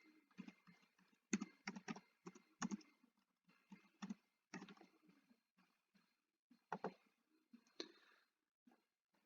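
Typing on a computer keyboard: quick clusters of light key clicks in uneven bursts with short pauses between, close and quiet.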